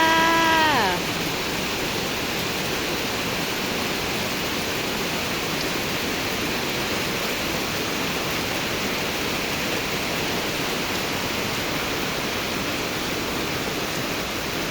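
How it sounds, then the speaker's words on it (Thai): Heavy, steady rain pours down around a house at Ban Mae Nam Phet, a loud unbroken hiss that fills the scene, with a voice heard only briefly at the very start. "ฝนตกแล้วจ้า"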